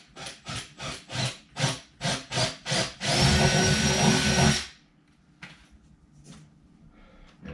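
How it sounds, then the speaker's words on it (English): A power drill with a 1/4-inch bit bores through a marked pivot point while building a portable Whirlyball goal, coming in short rhythmic bursts before one sustained loud run that cuts off, followed by quiet handling noises. "Gotta drill it out with my 1/4-inch drill bit here."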